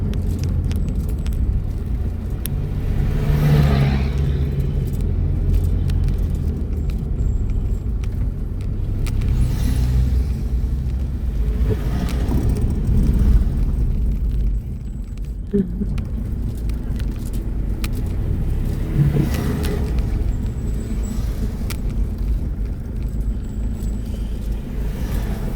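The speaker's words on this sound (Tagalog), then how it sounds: "sadyang marami lang talagang mga sasakyan, no?" Heavy road traffic on a busy street, with a steady roar of car engines and several vehicles swelling past one after another over a continuous rumble.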